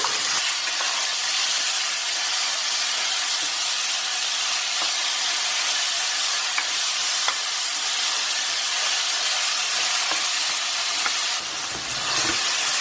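Tomatoes dropped into a hot pan with cooked ginger and garlic for an Indian dhal and spinach curry, giving a loud, continuous sizzle and hiss that holds steady throughout.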